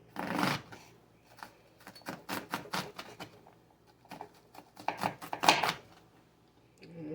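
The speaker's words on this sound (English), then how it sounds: "let's just cut these up real fine" A knife finely chops salmon patty ingredients on a board in bursts of quick, crisp taps, separated by short pauses.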